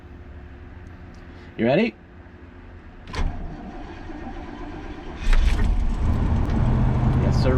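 Motorized automatic steps retracting on an old van on a cold morning, a short whirring mechanical burst near the start, followed by a clunk and the engine starting with a steady rumble, with a brief spoken question early on.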